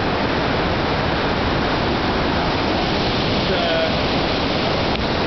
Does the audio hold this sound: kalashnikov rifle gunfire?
no